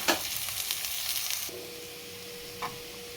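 Mashed boiled plantain pieces sizzle in a pan while being stirred, a close frying hiss with a few scrapes that drops to a quieter sizzle halfway through, with one more light scrape near the end.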